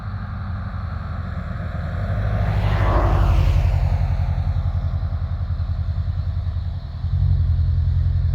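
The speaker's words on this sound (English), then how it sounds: "There's Adam, the drone." A drone hums steadily overhead above farm country at sunrise, its engine-like buzz swelling louder around the middle as it passes closest, then easing and briefly dipping near the end.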